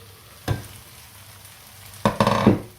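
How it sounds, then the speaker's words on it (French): Potato pieces fry in a covered pan, giving a soft sizzle under two brief bursts of stirring and clattering, the second longer with several quick knocks. "Là, il faut bien laisser cuire les pommes de terre."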